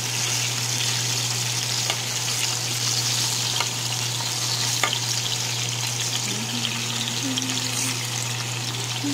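Chicken longanisa, skinless Filipino sausages, sizzling steadily in a pan over medium heat, a continuous dense hiss with occasional faint pops and clinks, no talking.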